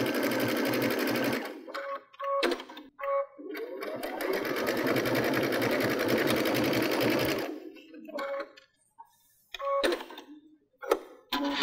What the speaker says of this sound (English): I can see exactly where that needle's dropping as I stitch